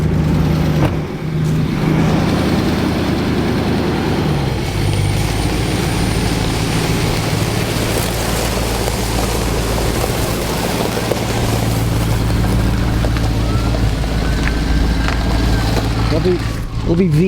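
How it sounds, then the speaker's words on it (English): A V8 engine burbles at a steady low idle throughout, loud and close, with a faint voice briefly audible over the continuous rumble. "It'll be V8 Burble."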